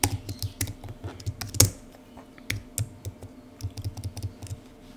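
Quiet clatter of typing on a computer keyboard, with irregular bursts of key clicks spread across the clip and one sharper, louder tap near the middle, no voices.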